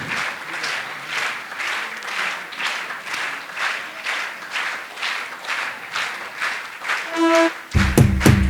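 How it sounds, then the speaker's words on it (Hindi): A large audience at a community convention claps steadily during an annual festival's lamp-lighting opening, many hands in a dense, even patter; near the end a loud burst of music cuts in over the applause. "तालियां बजती रहना चाहिए आपकी।"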